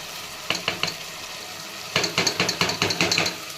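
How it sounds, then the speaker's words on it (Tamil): Ginger garlic paste sizzles in a pan over softened tomatoes for vegetable rice, with a spoon scraping and stirring in quick bursts, a short pair of strokes, then a busier run of scrapes, close and clear. "இஞ்சி பூண்டு பேஸ்ட்டு போட்ட உடனே நல்லா கிள்ளிட்டே இருங்க"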